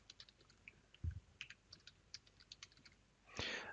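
Rapid keystrokes on a computer keyboard as a password is entered, a quick irregular run of light clicks ending in a louder, longer press, heard close up with no talking.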